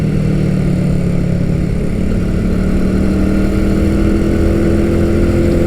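A vintage Honda CB125 motorcycle being ridden, its small engine droning steadily and loudly at near-constant revs with wind rush.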